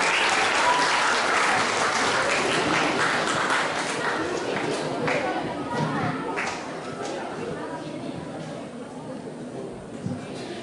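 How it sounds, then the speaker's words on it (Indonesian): An audience applauds at an event, a dense burst of clapping that starts loud and gradually thins and softens toward the end. "Mari kita berikan aplaus."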